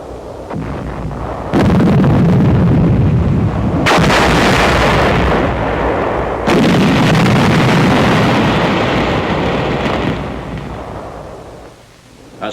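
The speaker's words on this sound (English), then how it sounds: "An explosive charge in a 5-gallon gasoline can is improvised to blast an enemy position." An improvised explosive charge packed in a 5-gallon gasoline can blasts an enemy position on Luzon in 1945, heard as repeated heavy, booming detonations with sustained rumbling roar between blasts, loud and close throughout, fading slightly at the end.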